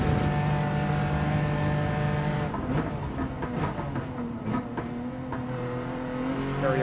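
Race car engine held at full throttle in Gran Turismo 7, a steady sustained drone with a continuous tonal whine that shifts slightly partway through, loud and alone with no talking.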